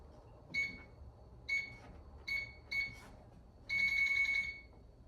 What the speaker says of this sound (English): safe will beep and yellow light will turn off